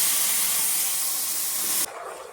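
Ground tomato ketchup hitting hot oil in a pan, giving a steady loud hiss and sizzle that drops abruptly to a quieter bubbling near the end.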